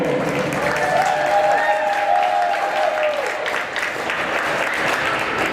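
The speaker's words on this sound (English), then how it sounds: "Fans in the stands, how about a round of applause for the 2nd place finishers, the Chicago Steel." Arena crowd of hockey fans at a hometown hockey championship applauds the second-place Chicago Steel, a sustained wash of clapping and cheering with a faint tonal whistle or voice rising above it midway.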